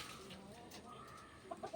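A domestic chicken clucks a few short, quick notes near the end of a quiet stretch of faint background noise.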